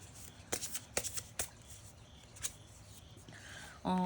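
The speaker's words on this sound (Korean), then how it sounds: "이 관계에 있어서 여러분들에게 좀 조언 카드 한 장 뽑아보도록 할게요." Tarot cards shuffled by hand for an advice draw: a few soft, papery riffles and taps in a quiet room, ending with a brief brighter rustle.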